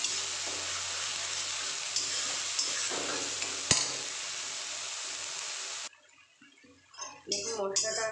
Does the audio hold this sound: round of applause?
no